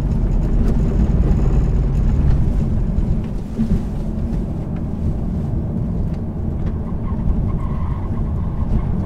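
A Tesla Model 3 in track mode driving hard around a race track, with a steady loud rumble of road and wind noise and tyre roar throughout, no talking.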